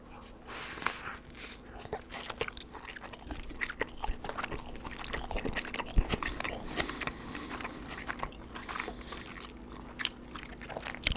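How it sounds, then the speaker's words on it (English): Crisp close-up bites and steady crunchy chewing of French fries and food, soft and intimate, repeating in an irregular rhythm with no talking. "Alright, first bite, here we go."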